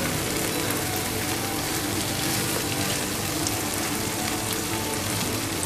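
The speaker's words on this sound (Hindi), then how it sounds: "ये देखिए कितना अच्छा सा ऑयल रिलीज हुआ है, मतलब हमारा मसाला बहुत अच्छी तरह से भून गया है इसमें" Masala for a dhaba-style egg curry sizzles steadily in hot oil in a pan, a dense, even crackle heard close up with no one speaking.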